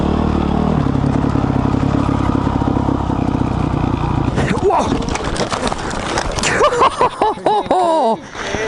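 Honda CRF450X dirt bike engine revving loudly up close while riding, a rough, clattering drone that turns choppy with revving bursts, with a voice speaking over the latter part.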